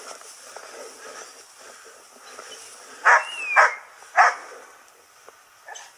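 Momo the dog barks three times in quick succession, sharp and fairly close, with a fainter fourth yelp at the end, out in the open at Montebello Estense over a quiet background.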